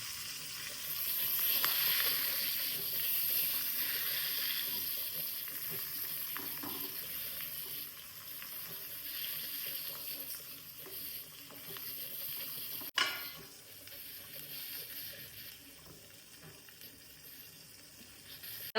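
Seer fish (neymeen) frying in a pan gives a continuous soft sizzle that fades slightly over time, with a sharp clatter partway through and no talk.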